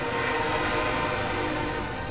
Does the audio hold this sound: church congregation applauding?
no